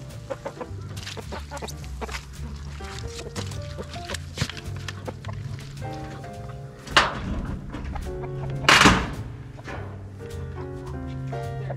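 Chickens cluck and murmur steadily around the coop on a farm during a January heat wave, with a couple of louder squawks standing out from the busy flock.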